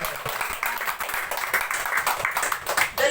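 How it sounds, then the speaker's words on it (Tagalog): Church congregation giving a loud round of applause during a worship service, dense steady clapping throughout with no talk over it. "Isang malakas na palakpak po sa Panginoon"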